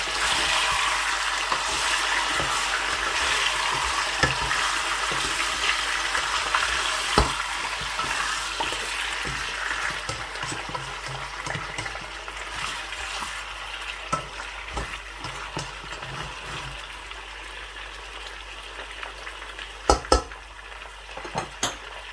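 Meat frying in a pot with garlic already browned for Shinwari karahi, a steady close sizzle throughout with occasional metal clinks of utensils against the pot and a few sharper knocks near the end.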